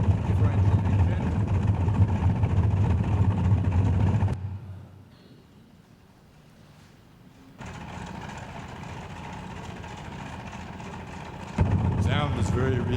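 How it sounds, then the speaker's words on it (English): Boeing 314 flying boat engines reproduced in a flight simulator, a steady low droning hum that drops away to near quiet midway, then returns at a lower level and swells again near the end. "That's just exactly what those engines sound like"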